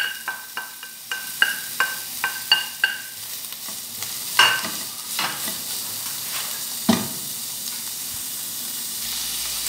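Chopped onion frying in a pan with chicken pieces, a run of sharp metallic taps and clinks at first, then a steady hiss and sizzle with occasional stirring scrapes, close and alone.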